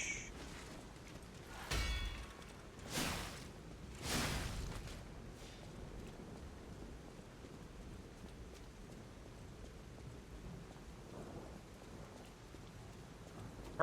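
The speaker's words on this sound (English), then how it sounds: "I actually like the sound of the rain." Steady rain falls in the Lies of P video game, with a few louder thunder-like rumbles early on, then a soft continuous hiss of rainfall.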